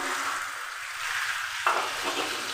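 Spiced paste water is poured onto potatoes frying in a pan, turning a steady sizzle into a sudden brighter, hissing surge partway through; short and close, with no voices.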